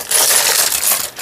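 Acrylic or glass chandelier facets clink and rattle against one another in a continuous bright jangle, close and fairly loud, with no talking.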